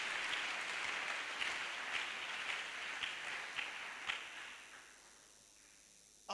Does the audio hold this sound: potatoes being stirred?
no